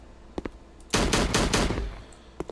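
Loud bursts of gunfire while shooting zombies in a first-person shooter game, a rapid volley of close shots lasting about a second and a half, with a couple of softer single shots before and after.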